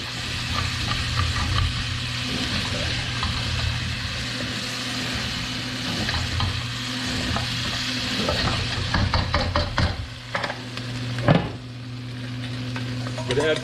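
Beef stir-fry crackles in a hot pan in a loud, steady sizzle, with stirring scrapes and a few sharp utensil clacks toward the end and no talking.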